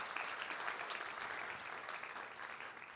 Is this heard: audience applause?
yes